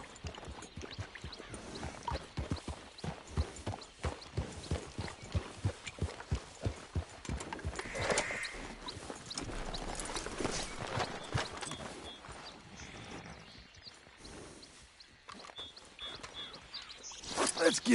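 Horse hooves clip-clop in a clear, regular walking rhythm, moderately close but fairly quiet, then fade into scattered rustling and a few brief sounds near the end.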